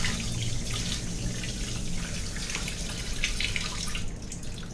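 Cut squid pieces being rinsed clean under a running tap, a steady splashing flow of water with dripping and sink sounds throughout, close and continuous with no talking.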